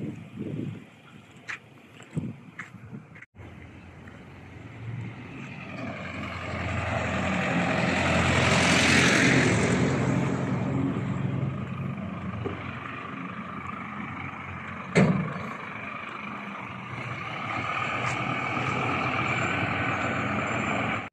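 Vehicles pass along a busy main road with taxis, a broad engine rumble swelling and fading with a few sharp knocks, heard up close without speech.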